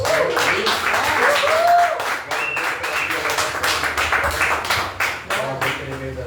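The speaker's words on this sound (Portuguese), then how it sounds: "Vamos numa salva de palmas." A church congregation in a Portuguese-language service gives a round of applause: sustained, fairly loud clapping with a voice speaking or singing over it throughout and a few sharper claps standing out near the end.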